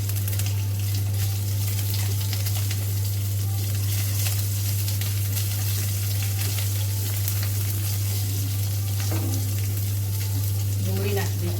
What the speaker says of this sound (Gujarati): ડુંગળીને થોડી સાંતળીશું